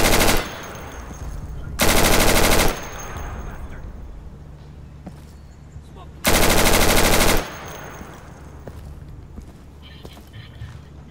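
Two loud bursts of sustained automatic gunfire in the online shooter game Insurgency, each about a second long, with quieter ambient game noise and scattered distant shots between them.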